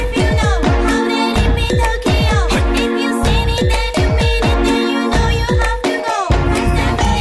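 Loud, dense music sample from a song, with a steady repeating beat and layered instrumental hits, playing continuously throughout.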